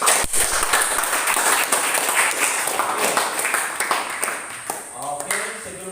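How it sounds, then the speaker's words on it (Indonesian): Applause from a group in a classroom lesson fills the clip, dense clapping steady throughout and tapering slightly near the end. "mari kita tepuk tangan yang meriah dulu untuk kita semua"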